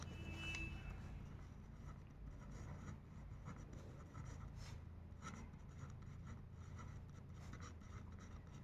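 Pen writing on paper while working a class 10 trigonometry problem, a continuous soft scratching and rubbing close to the microphone, faint against a low steady background hum, with no speech.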